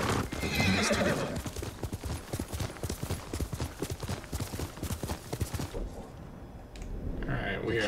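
Hooves clip-clop in a fast, steady galloping rhythm, close and loud, followed by a horse's whinny as the pounding fades out near the end, in the video game Ghost of Tsushima.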